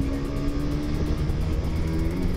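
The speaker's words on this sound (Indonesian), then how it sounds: "Jadi gue coba ngetes seberapa sih top speed dari Honda All New CB150R ini" A Honda All New CB150R motorcycle accelerates during a top speed run on a long open road while touring, giving a loud, continuous engine drone mixed with steady wind rush and no pauses.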